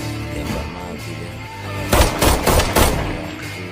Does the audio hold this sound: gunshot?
yes